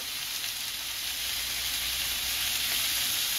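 Cured bacon sizzling in a pan: a close, even hiss of frying fat that holds steady throughout, with no voices.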